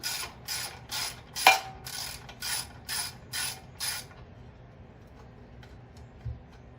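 A ratchet wrench clicks in a run of rhythmic bursts while removing bolts from the carburetor of a Porter Cable 8000-watt gas generator, close and crisp, then falls quiet with a couple of faint knocks.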